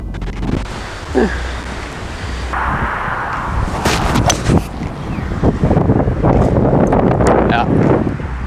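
Crosswind gusts buffet the microphone on an uphill golf hole, a loud rough rumble that swells and fades, with someone talking over it.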